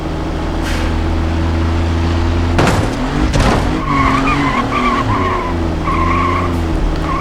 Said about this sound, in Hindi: 3000 RPM पर इसका इंजन दम तोड़ रहा है, बैक आ रही है पीछे, दोबारा से झटका मार रही है।